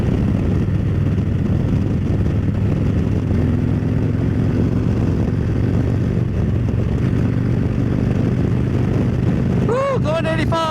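A motorcycle cruising at about 85 mph in sixth gear gives a loud, steady engine drone with heavy wind roar throughout, and a brief rising whine near the end.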